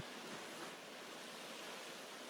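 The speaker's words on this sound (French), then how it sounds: "Vous entendez le bruit des vagues?" Ocean waves wash in a steady, soft broadband rush, faint and continuous with no distinct breaks, heard alone without any voices.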